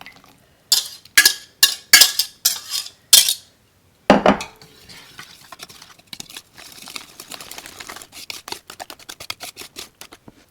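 A whisk or spoon clatters against a bowl in several sharp, rhythmic strokes, then settles into a softer, steady stirring of donut batter made from egg, milk, vanilla and unsalted butter. Close and clear, with no talking.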